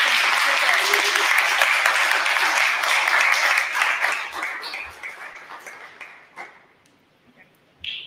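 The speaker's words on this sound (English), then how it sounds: "Everybody give a round of applause." An audience at a talk about slavery in Hartford breaks into sustained applause, loud at first and then gradually dying away, with a few scattered claps and small sounds at the end.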